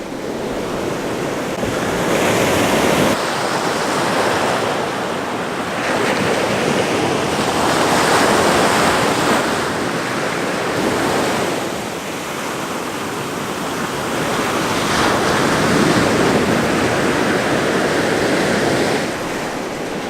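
Ocean surf rolls in and breaks on a beach in slow, repeated swells, loud and close, with wind buffeting the microphone and no voices.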